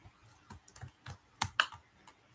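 Close keyboard typing of short Python code on a computer, a few irregular key clicks with two sharper, louder strikes near the middle, no talking.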